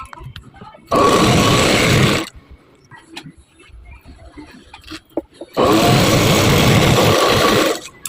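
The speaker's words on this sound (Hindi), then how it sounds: "ठीक है, सीधा ही हमें सिलाई मारनी है" A sewing machine stitches blouse fabric in two loud, steady whirring runs, each lasting about one to two seconds, with a person talking quietly in the pause between them.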